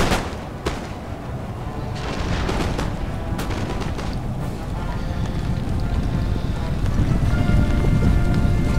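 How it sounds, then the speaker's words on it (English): Rain in the battle game Empire: Total War, a steady hiss running the whole time beneath crackling volleys of gunfire and booming artillery. "this rain sure makes things a lot more hectic as well"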